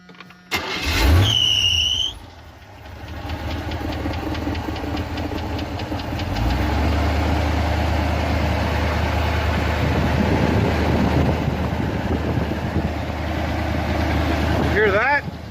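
A car engine runs after a spark plug replacement and idle adjustment. It cranks and catches with a loud burst, then settles into a steady, rough idle with a rising, rattling hum, heard close by.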